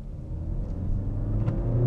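A Kia XCeed crossover engine in sport mode hums and builds in a low, moderately loud rev over a couple of seconds, heard alone without speech.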